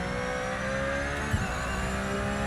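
Race car engine in Project Motor Racing, a sustained high-revving tonal drone with steady harmonics, loud and close, with a brief blip where the pitch shifts as the car downshifts.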